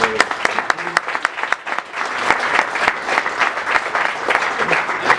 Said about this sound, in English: maybe kind of final applause for the panel